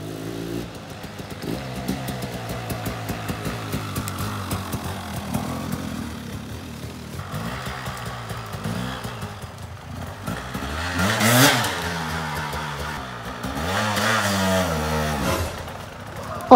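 A KTM Freeride E-XC electric dirt bike rides off-road, its motor whining and rising and falling in pitch with throttle changes, close and steady, with a voice speaking over it.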